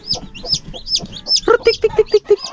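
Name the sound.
Rhode Island chickens and chicks clucking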